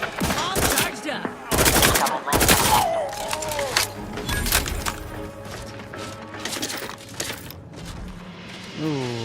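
Rapid bursts of SMG gunfire crack loudly and close in the video game The Outer Worlds 2, several volleys in quick succession with a voice speaking briefly between them.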